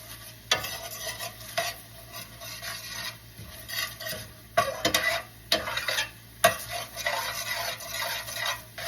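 Alfredo sauce with heavy cream cooks in a pan as a spoon scrapes and stirs, with sharp utensil clinks against the pan over a soft steady simmer, close and alone.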